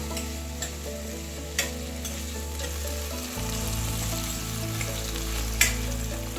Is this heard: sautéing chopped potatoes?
yes